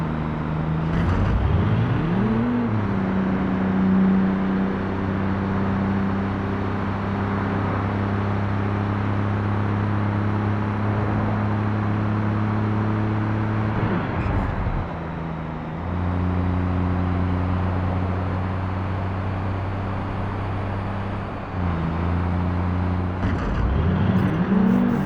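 A car driving in the video game Watch Dogs 2, a steady engine drone with shifting pitch as it accelerates and changes gear, close and continuous with no talk.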